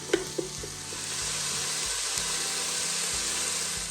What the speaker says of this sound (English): So just give them a stir. Make sure they're covered in oil.